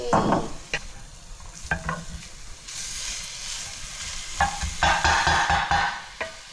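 Chopped vegetables for a beef bolognese sauce frying in a little oil, with steady sizzling broken by several sharp stirring and scraping bursts of the spatula against the pan, close by and fairly loud.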